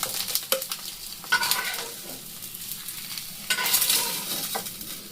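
Eggs frying in oil in a pan, a dense crackling sizzle under scattered sharp clicks and scrapes of a utensil stirring and nudging them, swelling louder twice and easing back, with no voices.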